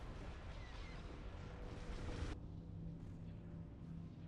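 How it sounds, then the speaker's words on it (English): Secondary explosions rumble from a destroyed Star Destroyer starship in a Star Wars space battle game, a deep continuous roar that cuts off abruptly midway, leaving faint lingering booms. "Secondary explosions."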